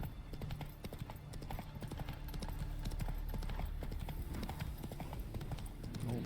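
Horse hooves clip-clop steadily and close in The Witcher 3: Wild Hunt, a fast continuous rhythm over a low rumble, with faint talk in the background.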